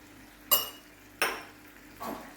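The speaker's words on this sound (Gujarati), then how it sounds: "અને ખાંડ બધું જ આપણે મિક્સ કરી દેવાનું છે અને હવે આપણે એને સતત હલાયા કરવાનું" A utensil stirring bottle gourd barfi mixture of milk, dry fruit and sugar in a pan gives three separate metallic clinks about half a second or more apart, clear against a quiet background.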